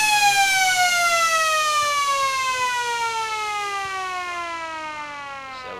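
A loud, steady siren wails across an Australian football ground, holding a continuous sustained tone for the whole stretch and slowly dropping in pitch, with a brief voice near the start.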